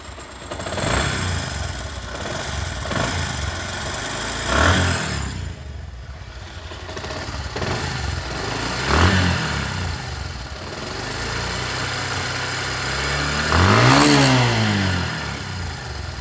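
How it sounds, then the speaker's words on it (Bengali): A motorcycle engine with a tappet clearance fault and a bad engine sound idles unevenly, then revs up several times in short bursts, with one sharper rising rev near the end, close and loud with no talking. "সাউন্ডটা চেঞ্জ হয়ে গেছে, ইঞ্জিনের সাউন্ডটা"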